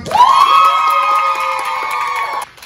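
A masquerade party crowd shouts and cheers at a contest judged by applause, a loud sustained roar with a strong high whoop rising early, holding steady and then cutting off near the end.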